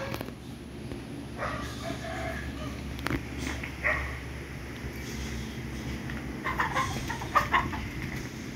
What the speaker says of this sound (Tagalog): Marami silang alagang manok, pato.